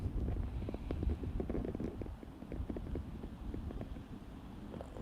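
Wind gusting across an outdoor trail, a steady low rumbling buffet on the microphone with scattered soft thuds, filling the whole stretch at a fairly even level.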